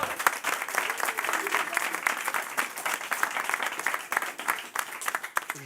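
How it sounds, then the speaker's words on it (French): An audience at a quiz show breaks into sustained applause, dense rapid clapping filling the room at steady loudness, with some crowd voices mixed in. "Mesdames et messieurs, applaudissez"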